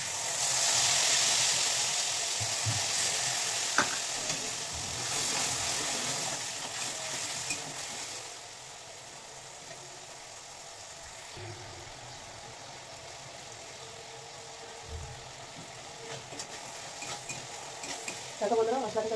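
Ground spices frying in oil with onions browned to a deep red, giving a steady broad sizzle that is loud at first and then settles into a quieter, even hiss, with a few soft stirring clinks and no talk.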